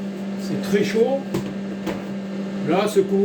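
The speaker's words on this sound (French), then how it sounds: "ce que vous entendez, c'est le poste à soudure" A Nordica wheeled welding machine hums steadily with a constant low drone, while someone talks over it.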